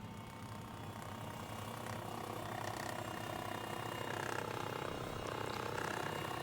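An MD902E helicopter's engines running in X-Plane 12, a steady broadband turbine roar and rotor drone that swells slightly and holds constant throughout.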